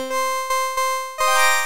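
A bright, buzzy synth made from a saw wave and a square wave plays four short harmonic-rich notes in a stepped rhythm, the last one held and swelling, with no voices present.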